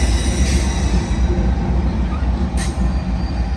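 A Union Pacific intermodal freight train rolls past in Oakland, California, close and loud, with a steady heavy rumble of wheels on rail and faint squeals.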